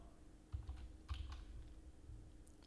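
Quiet keystrokes on a computer keyboard while setting up a coding environment, a few close, soft clicks in short irregular bursts with no talking.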